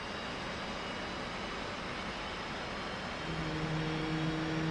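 F/A-18C Hornet jet engine spooling up in the DCS flight simulator, a steady broadband roar with a rising tonal whine that emerges near the end and grows slightly louder.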